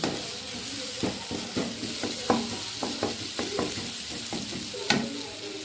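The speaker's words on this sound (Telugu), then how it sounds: "బాగా ఫ్రై అవుతుంది చూడండి" Egg fried rice ingredients sizzle and fry over high flame in a pan, with a steady hiss broken by a string of sharp stirring scrapes and clanks, close and fairly loud, no talking.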